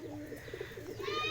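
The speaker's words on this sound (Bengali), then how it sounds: "এই হচ্ছে আমাদের রামপুরি কবুতর" A Rampuri pigeon gives a short, close coo, with faint background noise around it.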